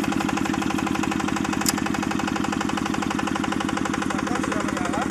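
A Yanmar YZC-L hand tractor's small single-cylinder engine, just started, chugs at a steady, rapid idle, loud and close, with an even mechanical knock throughout.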